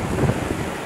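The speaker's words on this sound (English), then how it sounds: "it is pretty windy" Strong wind on open hills buffets the microphone in a brief, steady roar.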